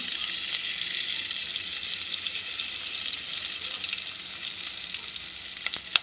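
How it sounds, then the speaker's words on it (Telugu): Turmeric is stirred into chicken curry frying in oil, giving a steady, close sizzle with faint scraping of the spoon throughout and a couple of sharper ticks near the end; nobody speaks. "అలాగే మనం పసుపు కూడా ఇందులో యాడ్ చేసుకొని మిక్స్ చేసుకోవాలి"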